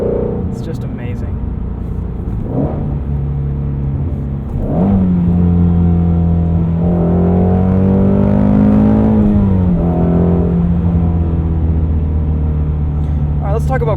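A 2016 Ford Mustang Shelby GT350 engine revs up, its pitch climbing and holding briefly before dropping back to a steady idle-like drone, loud and close throughout.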